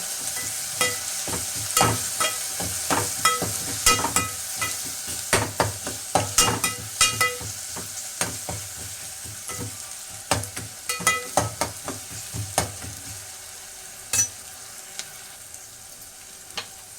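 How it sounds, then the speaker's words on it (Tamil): Onions sautéing in a pan with ginger-garlic paste for vegetable biryani, a steady close sizzle broken by frequent sharp scrapes and clicks of a spoon stirring, with no talking. "வெங்காயம் வதங்கிறதுக்கு உப்பு போட்டுக்கலாம். இஞ்சி பூண்டு பேஸ்ட்டு அதை போட்டுக்கலாம்."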